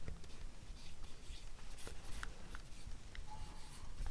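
Notes are written by hand on a board during a class 9 physics lesson on gravitation, giving a steady close scratching with small taps and strokes and no talk over it.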